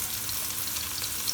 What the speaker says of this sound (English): So now let's saute this on high heat, real high heat.